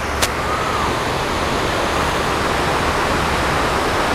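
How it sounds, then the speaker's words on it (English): Waterfall at a hotel pool in Orlando, Florida, a loud, steady broadband rush of falling water heard up close with no talking. "Nice waterfall."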